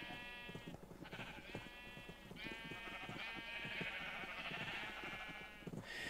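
Sheep in a blocky survival video game bleat repeatedly in quick overlapping calls, quiet but clear, with no talking.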